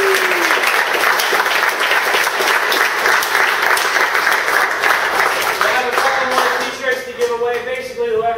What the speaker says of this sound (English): I just want to first give a great big round of applause to Justin Sheehy.